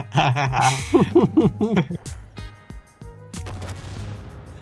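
Artillery fire in the World of Tanks video game, with a couple of sharp booming shots and a heavy blast near the end, heard under excited talking from players.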